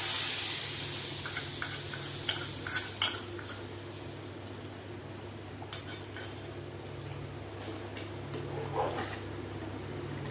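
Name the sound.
spices sizzling in hot oil for tempering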